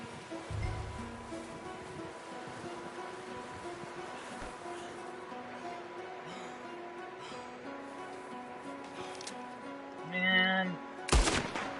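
Gunfire from the video game Red Dead Redemption 2, with a few sharp shots breaking through a steady, fairly quiet game soundscape, one near the start and a louder crack at the very end.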